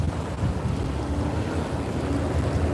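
Strong wind buffets the microphone during an outdoor e-bike ride along a sidewalk at night, a constant low roaring rumble with gusty fluctuations that fills the whole stretch, with no talking.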